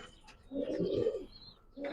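A pure white Madrasi pigeon coos in a soft, low burble that swells for about a second in the middle, with a faint chirp above and a quieter coo returning at the end.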